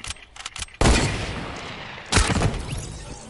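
Gunfire in the Fortnite video game, two loud, sharp blasts about a second apart, each trailing into a long rumbling decay, preceded by a few fainter, quicker pops.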